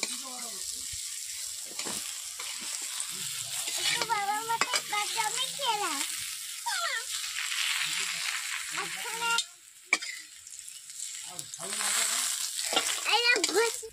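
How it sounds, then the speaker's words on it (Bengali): Pointed gourd (potol) frying in a wok, a continuous crackling sizzle with intermittent stirring scrapes, while voices talk in the background through much of it. "পটলগুলোকে আমি ভেজে নিয়েছি"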